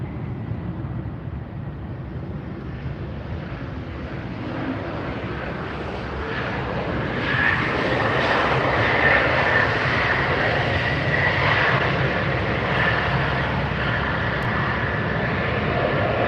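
A Breeze Airways Airbus A320 arrives at LAX with a loud, continuous broadband engine roar that builds slightly midway and holds steady, with no talk over it.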